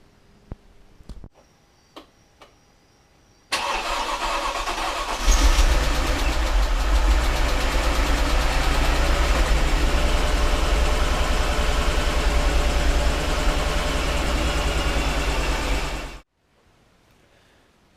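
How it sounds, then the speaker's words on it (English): A Mercedes-Benz engine turns over and starts after a few faint clicks, then idles loudly and roughly with an uneven misfire for about eleven seconds before cutting off abruptly. "the car is hella misfiring."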